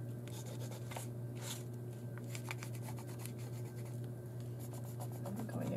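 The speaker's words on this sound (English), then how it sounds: "I'm going to use the sepia Inktense pencil." Sepia Inktense pencil scratching across an art journal page, soft close strokes in short irregular bursts over a low steady hum.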